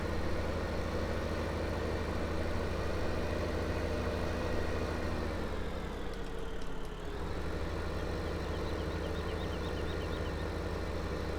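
Tractor engine in the video game Farming Simulator 15, a steady droning hum that holds throughout at an even level, briefly dipping in pitch midway as the tractor slides sideways, with no talk over it.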